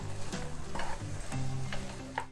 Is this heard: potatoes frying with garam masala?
yes